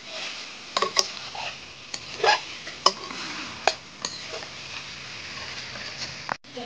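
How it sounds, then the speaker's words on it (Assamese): Sesame chicken being stirred and dry-fried in a pan: scattered clinks and scrapes of a utensil against the pan over a low, steady background, with irregular knocks spaced a second or so apart. "আকৌ অলপ লাৰি দিওঁ নহ'লে জ্বলি যাবগৈ এইটো"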